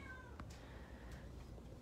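A young tortoiseshell cat, about two years old, gives a couple of soft, faint meows against a quiet room background.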